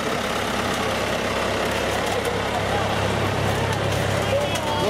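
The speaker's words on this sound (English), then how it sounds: "He's got a new tractor!" A new tractor engine runs during a rainy Jubilee parade in the village of Durweston, a steady low rumble that stays fairly close while people talk over it.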